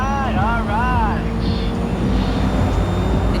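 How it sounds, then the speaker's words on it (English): A drone in Cyberpunk 2077 hums with a steady low mechanical drone, continuous and fairly loud, while a voice speaks briefly over it at the start. "Did you fire up that drone?"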